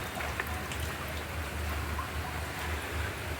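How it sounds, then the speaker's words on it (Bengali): Steady rain falls outside as heard from a rooftop, a continuous even patter and hiss with low rumble beneath, moderately distant and unbroken, with no talking. "আমার মনে হয় সব জায়গাতেই হচ্ছে বৃষ্টিটা"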